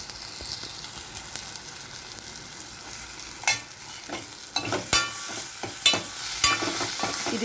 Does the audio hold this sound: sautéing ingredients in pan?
yes